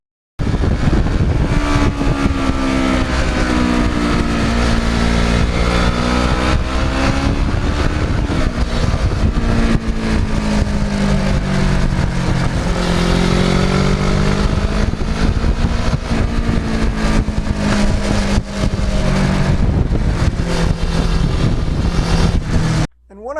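Kawasaki Ninja motorcycle, a restored bike on Michelin tires, engine running steadily with a loud, continuous drone that rises and falls in pitch, with wind noise over the microphone throughout.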